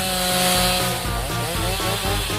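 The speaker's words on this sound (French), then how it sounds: "Mais où est l'outil adéquat? Ah oui, une tronçonneuse." A chainsaw runs close and loud, a continuous buzzing drone with a few slight dips in pitch as it works, alone with no talk.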